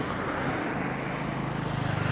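A DJI Mini 5 Pro drone flies during a flight test with a steady, dense buzzing whine of its propellers, loud and close throughout, the pitch wavering slightly toward the end.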